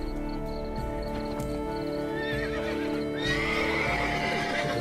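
In The Witcher 3, a unicorn gives repeated whinnies and snorts with some hoof sounds over steady game ambience, with a louder neigh toward the end.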